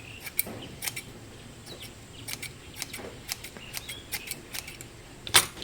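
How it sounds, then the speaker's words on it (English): Scissors snip tassel threads to even them up, making a series of close, crisp, irregular clicks and short cuts over a faint background, with a louder snip near the end. "take your scissor and maybe cut these more to the same length."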